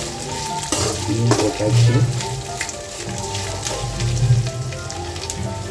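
Spices frying in a pan for a ridge gourd kootu, a loud, steady sizzle with bursts of stirring scrapes; a voice speaks briefly over it.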